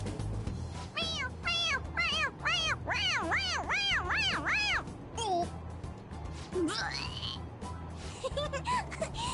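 A toy cat in Persona 5 Royal, pressed on its head, lets out a quick run of repeated, wavering meows, then a few scattered softer mews.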